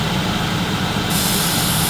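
A scale-model spray booth extractor is switched on, adding a loud rushing airflow hiss over a steady low motor rumble that continues unbroken.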